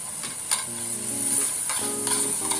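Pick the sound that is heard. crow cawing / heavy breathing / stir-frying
stir-frying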